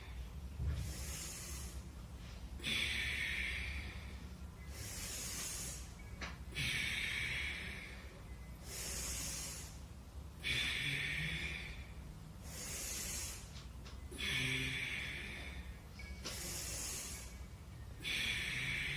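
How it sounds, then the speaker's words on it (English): Ujjayi yoga breathing hisses through the throat in slow, even cycles of long inhales and exhales, close and fairly soft, with no talking. "Ujjayi breathing, hissing sound through the throat all the time."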